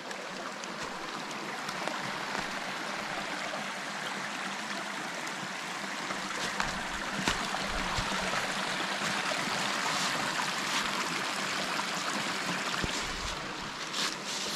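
Steady broadband rush of the Stieferner Bach, a mountain stream in Lower Austria, flowing close by without pause for the whole stretch, with no voices.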